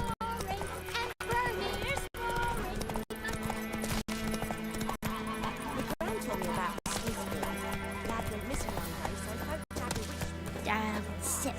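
Geralt's horse Roach gallops in The Witcher 3, hooves beating a fast, steady clip-clop rhythm up close, with a whinny and game music and effects around it, briefly paused by short gaps.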